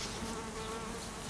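Buckfast honeybees swarm inside an opened hive, making a dense, steady buzz that holds evenly for the whole moment, close and loud, with no voices.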